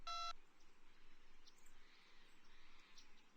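A short electronic phone beep opens, then quiet faint chirps and soft tones follow in the Strong Bad video game, low in level with no speech.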